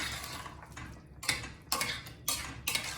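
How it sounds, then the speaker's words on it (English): A utensil stirs a cooking pot in a home Indian kitchen. About five sharp metallic scrapes and clinks come in an uneven rhythm, close and fairly quiet, with no talking. "let me stir it a little bit"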